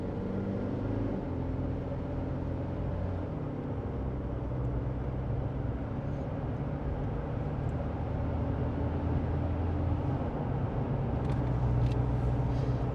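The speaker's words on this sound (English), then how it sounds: "just drive how you'd feel it go through the gears" Inside a Toyota Prado with a remapped ECU and a tuned transmission, a low engine drone rumbles steadily as it accelerates through the gears, the pitch shifting slightly at the gear changes.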